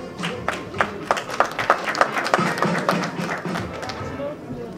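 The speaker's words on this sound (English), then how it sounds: "Please a round of applause for her." Modest audience applause at a Lions fundraising event, a small group clapping in an uneven rhythm with distinct individual claps that fade out toward the end.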